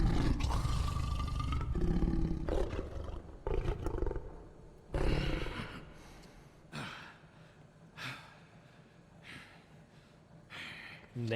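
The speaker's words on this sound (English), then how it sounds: "Those are tiger growls. Listen, it sounds cool." Tiger growls from The Wolf Among Us, Episode 5: a strong roar at the start, then several shorter growls and snorts spaced through the rest, with little talk over them.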